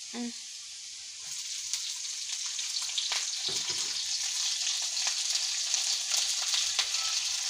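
Green chilies crackle into a hot pan of frying pickle mixture, setting off a loud, continuous sizzle, with occasional stirring scrapes and clinks.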